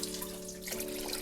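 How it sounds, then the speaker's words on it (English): A glass of water is poured into chicken daal cooking in a pot, making a steady, moderately quiet splashing rush over a faint low hum, with no talking. "So we're gonna add one more glass of water."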